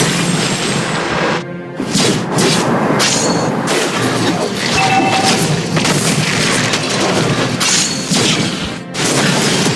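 Loud, dense crashing booms from a MOBA video game as a defensive turret is destroyed, a continuous barrage of impacts and debris with brief dropouts, alone without speech.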